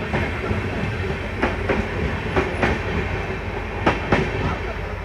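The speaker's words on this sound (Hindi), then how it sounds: "तो यह ट्रेन है 14888 बाड़मेर ऋषिकेश एक्सप्रेस" An Indian Railways train runs along the tracks, with a steady rumble and clear, regularly spaced clickety-clack wheel beats over rail joints, heard close up from on board.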